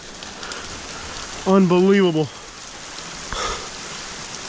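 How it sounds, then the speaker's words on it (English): Heavy rain pours down steadily near an abandoned house in Sebastian, Florida, a dense constant hiss that stays under a brief spoken exclamation. "It's the middle of a downpour."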